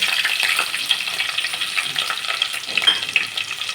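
Dry red chillies sizzle and fry in hot oil while upma is being made, with a steady close hiss and some crackle and stirring throughout and no talk.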